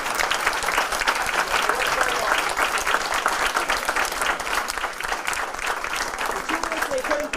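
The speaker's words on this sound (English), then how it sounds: "Can we get a big round of applause for..." Audience applause at a youth police academy graduation in Peekskill, a steady, dense wash of many hands clapping that holds loud and even throughout.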